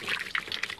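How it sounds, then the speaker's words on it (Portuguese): Water pours into a container to mix powdered milk for foals, a short, bright trickling splash in a few uneven bursts, close and moderately quiet, with no talk. "eu estou colocando só um pouquinho de água"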